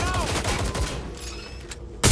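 Heavy gunfire in the Watch Dogs Legion video game, dense overlapping shots and bursts rattling continuously, with a final loud burst at the end.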